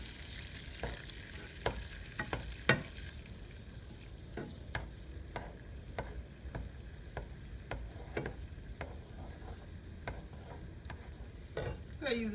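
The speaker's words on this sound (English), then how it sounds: "Just going to give that a stir." Chicken browning in butter in a pan for honey glazed bacon wrapped chicken, a steady sizzle broken by a dozen or so sharp scrapes and clicks as it gets stirred, close and fairly even, with nobody talking.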